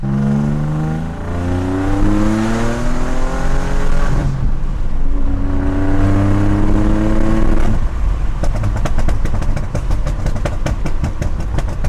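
A C5 Audi Allroad engine revs up and down repeatedly, loud and close, then breaks into a fast crackle of pops and bangs on the overrun near the end, with no talking.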